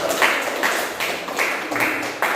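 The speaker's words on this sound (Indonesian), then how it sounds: "Oke, tepuk tangan." A small group in a school counseling session claps their hands together in short, repeated bursts at a fairly even rhythm. The clapping is close and moderately loud.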